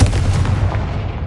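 Confringo blasting spell in Hogwarts Legacy, a loud booming explosion with deep rumbling low end that decays over about a second.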